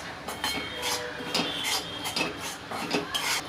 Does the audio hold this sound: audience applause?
no